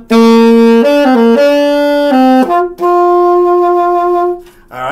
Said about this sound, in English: now this one is the alto saxophone